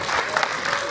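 Brief burst of audience applause at a concert by a vocal-instrumental group, greeting a band member, a short dense patter of clapping at moderate level.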